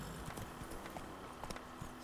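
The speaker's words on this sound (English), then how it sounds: "Get on the horse." A horse's hooves clip-clop in The Witcher 3, a faint, steady run of soft hoof beats under quiet game ambience.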